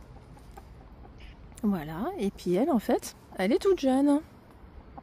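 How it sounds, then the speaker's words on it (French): Aged laying hens, about 18 months old and kept in a backyard flock, give a few short bursts of clucking close by, with someone speaking French over them. "C'est des poules de réforme. Elles sont âgées."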